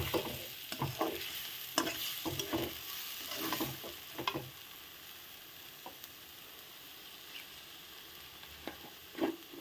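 Ghee being stirred into moong dal in a pan: soft scraping strokes with a light sizzle come in bursts during the first half, then fade to quieter, occasional stirs.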